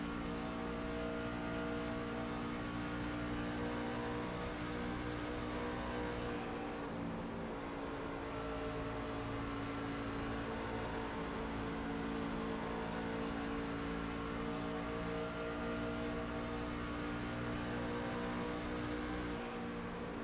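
Onboard a stock race car on an oval track during a lap, a loud steady engine drone with layered harmonic whine, briefly easing then holding speed, no talk.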